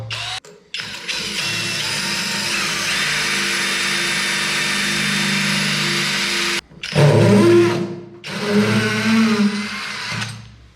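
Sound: drilling holes in tiles

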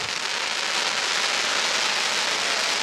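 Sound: crackling willow waterfall firework shell bursting

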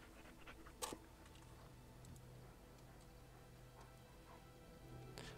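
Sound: dog panting in Dragon Age Origins video game

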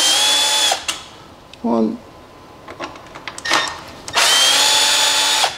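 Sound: power drill removing screws from motorcycle beak

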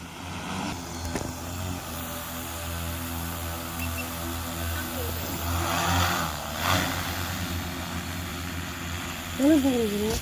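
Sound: agricultural spraying drone flying

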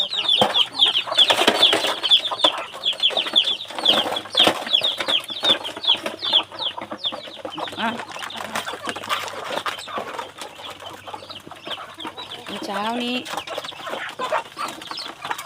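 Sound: chickens clucking

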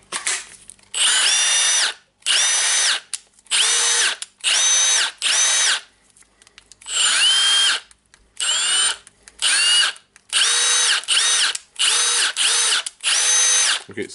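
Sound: Milwaukee M18 FID2 impact driver running

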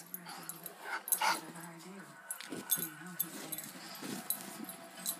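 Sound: dog whimpering

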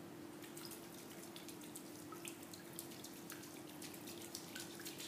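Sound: water drumming, fingertips skimming water, hi-hat type 1

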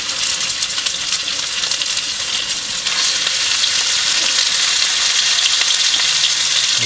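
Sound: pike fish frying in a pan

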